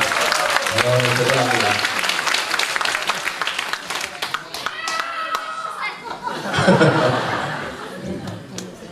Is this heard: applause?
yes